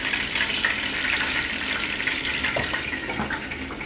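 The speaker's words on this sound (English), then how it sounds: "Oh, they sizzling. They sizzling." Chicken legs sizzle steadily in a hot pan, a bright, constant hiss with small crackles and pops, close up and with no talking.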